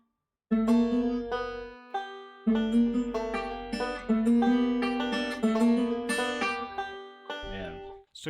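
Banjo playing a slide in place of the first note of a thumb roll, a few seconds of close, bright plucked phrases with ringing sustained notes and a short pause partway through.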